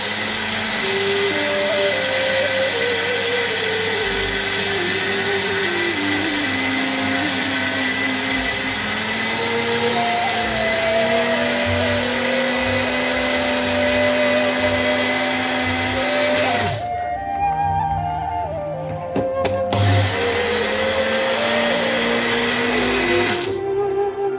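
An electric grinder whirs continuously as it grinds oats into powder, its motor pitch shifting and wavering, briefly dropping and restarting near the end, loud and close with no talking.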